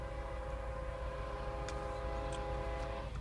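A train passes nearby, a steady low rumble of wheels and cars with sustained tonal hum throughout and a couple of brief high squeals near the middle, no voices.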